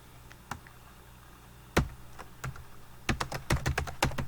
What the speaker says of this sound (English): Then I'm going to come on up and I'm going to type my name.